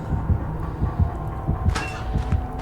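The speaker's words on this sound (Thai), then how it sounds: "ทำไมมีเสียงหัวใจล่ะ" Heartbeat effect in the video game Dead by Daylight, a low, steady double thump repeating under a humming game soundscape with a brief brighter noise partway through, no talking.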